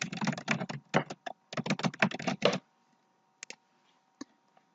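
Rapid keystrokes on a computer keyboard spell out a name in quick bursts of close, crisp clicks, then stop, leaving a few isolated taps in near silence.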